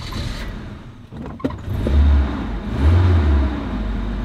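A car engine cranks briefly with a sharp catch, then settles into a low, steady idle rumble with a couple of small swells, close by and without talk.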